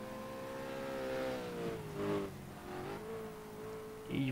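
A BMW M3 in the BMW M3 Challenge racing game accelerates steadily, its engine tone rising and shifting through gears at a moderate, continuous level with no talking.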